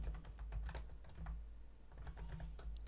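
Typing on a computer keyboard while entering an Excel formula, a quick run of close, light key clicks in two bursts with a short pause between, quiet and without talk.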